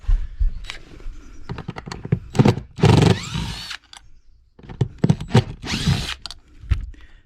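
A 20-volt DeWalt cordless drill backs square drive screws out of a bracket inside a camper during an RV renovation, giving several short whirring bursts, two longer runs, and clicks and handling knocks between them, close and loud.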